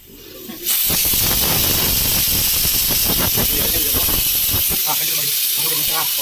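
A pressure cooker cooking mushroom biryani lets out a loud, continuous jet of hissing steam that starts abruptly after a brief quiet moment and holds steady to the end, with faint voices beneath it.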